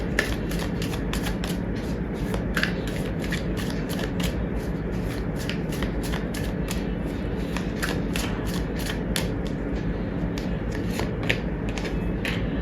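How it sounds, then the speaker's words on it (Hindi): Tarot cards shuffle steadily and close up, a continuous papery riffling with crisp repeated flicks throughout, no voice heard. "एक कार्ड और लेते हैं।"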